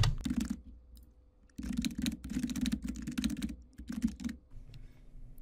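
Computer keyboard typing in quick bursts of close, crisp key taps, with a short pause near the start, as a name and description are entered.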